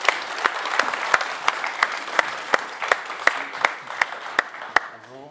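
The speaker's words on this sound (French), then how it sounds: "Et on peut l'applaudir, absolument." Studio audience applauding a guest on a French-language television show, dense steady clapping from a crowd with some sharp individual claps standing out, fading at the end as a voice begins.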